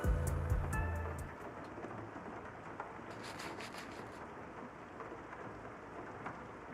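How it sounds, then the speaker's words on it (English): Rain falls steadily in the video game Rain Code as a soft, continuous hiss, joined by a few scattered chimes and clicks near the start. No one speaks. "It's raining?"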